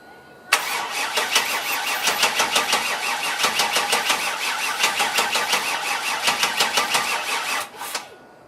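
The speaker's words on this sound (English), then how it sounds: "Right now I'm going to push it outside and do a fire of it, make sure the oil pressure builds up" An LS7 V8 engine in a Chevrolet S10 pickup fires up after a brief crank, then settles into a loud, choppy, pulsing idle for several seconds before shutting off.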